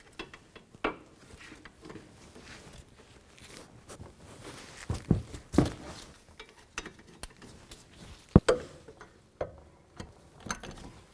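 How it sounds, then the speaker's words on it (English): An 18mm socket on a ratchet works the two brake caliper bracket bolts loose on a 2008-13 Cadillac CTS, giving scattered clicks, clanks and sharp metallic knocks at close range with no talking. "So I'm going to use an 18mm socket and take the 2 bracket bolts out."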